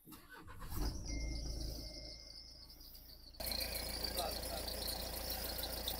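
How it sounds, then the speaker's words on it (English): 2017 Nissan X-Trail in limp mode with a suspected blocked DPF cranks and starts, then settles into a steady idle with a rough, pressurized exhaust note, accompanied by crickets chirping outdoors. "I can hear now exhaust pressurized noise."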